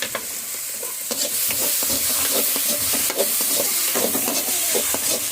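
Salted food is stirred in a hot pan: a continuous sizzle runs under repeated scraping and clinking strokes of a spoon, close and fairly loud, with nobody speaking.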